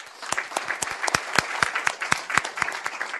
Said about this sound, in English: I'd like to applaud you again